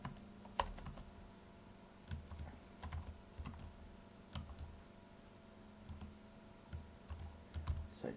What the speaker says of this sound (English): in the file name box, we're going to type in what's shown there as the file name